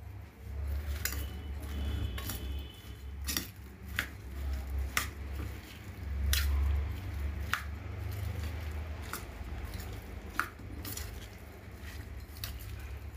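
Salt, chilli powder and oil are mixed by hand in a bowl for onion chutney, giving faint, soft squishing with scattered light clinks against the dish, quiet and close with no talk.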